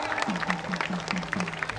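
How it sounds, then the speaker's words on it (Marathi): Spectators at an open-air wrestling ground clap for two wrestlers, a dense patter of applause heard briefly alongside a sustained tonal drone. "जोरदार टाळ्या दोन्ही पोरांसाठी पुन्हा एकदा"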